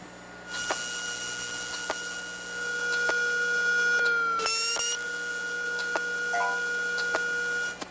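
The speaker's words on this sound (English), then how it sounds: "that was the sound of one of the chips on there failing and my Pocket PC complaining low battery" A failing chip in a Pocket PC buzzes as a high electronic whine with a sudden glitchy burst midway, followed by a brief low-battery beep, all fairly loud and steady.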